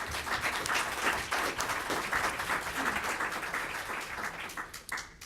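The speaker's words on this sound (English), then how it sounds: "A round of applause for our guests today" Audience at a legislative preview panel event applauding the guests, moderately quiet, continuous clapping from a smallish crowd that pulses unevenly and tapers toward the end.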